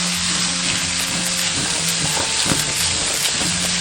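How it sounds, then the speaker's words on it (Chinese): Mustard green stems stir-fried over high heat, loud continuous sizzling with scraping and tossing of the spatula in the wok, close and dense. "炒香后下入芥菜梗，大火翻炒30秒。"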